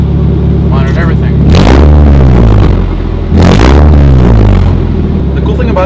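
A car engine runs loud and close, its rumble swelling in two strong revving surges separated by a brief dip, with a steady idle underneath throughout.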